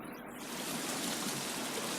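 Several waterfalls splash in a cave room in The Forest video game, a steady broadband rush of falling water that swells slightly after the opening and holds constant throughout, with no voices.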